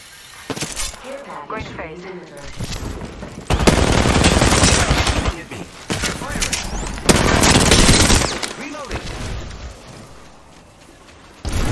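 Loud, sustained bursts of automatic gunfire in an Apex Legends match, several long volleys separated by shorter pops and a glassy shattering, with brief voices between bursts.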